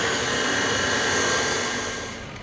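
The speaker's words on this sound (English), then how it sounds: "So now you're gonna mix this until the pumpkin's blended in really well." An electric mixer blends pumpkin oatmeal chocolate chip cookie dough with a steady, close whirring drone that holds evenly, then eases off slightly at the very end.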